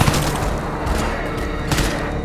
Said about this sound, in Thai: ตกใจปืนลั่น